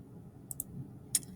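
A few sharp computer mouse clicks while making a new folder on a PC: two close together, then a third a moment later, quiet over a low room hum.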